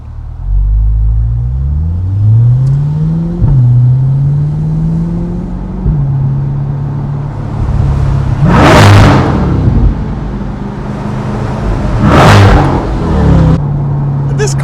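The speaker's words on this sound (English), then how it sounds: "I love the way this sounds. I love the Z06." Chevrolet Corvette C8 Z06 with a touring exhaust idling low and steady, then revved hard twice under a bridge, each blip a loud, close roar echoing off the structure before dropping back to idle; some talk appears between.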